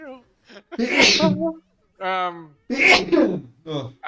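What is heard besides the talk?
sneeze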